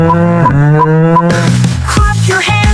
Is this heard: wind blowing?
no